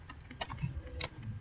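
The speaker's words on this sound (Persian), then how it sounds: "دوباره اگر من اینو پاک کنم با زبان دری تایپ کنیم سلام" Fast keystrokes on a computer keyboard while text is entered in Dari on a Windows 8 machine, a quiet, uneven run of light clicks with a few sharper taps.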